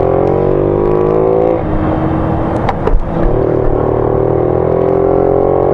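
A Honda Ruckus 49cc scooter engine runs steadily nearby with a loud, continuous buzzing drone and a brief uneven stumble partway through, without any talk.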